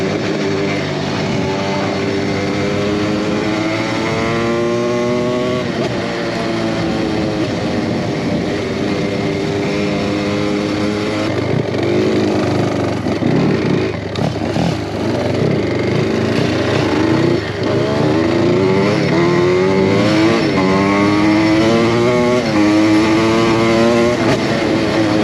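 A motocross motorcycle engine runs nearby for a long stretch, revving up and down repeatedly with a buzzing, rising and falling tone at a steady loud level.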